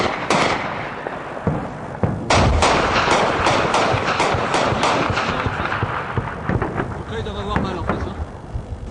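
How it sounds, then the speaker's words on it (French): Rapid bursts of 20 mm cannon fire and heavy artillery shell impacts in Tagab, Afghanistan, a dense barrage of loud sharp cracks and deep booms, some distant, with someone speaking briefly. "C'est du gros obus, hein. C'est pour ça que ça fait du bruit."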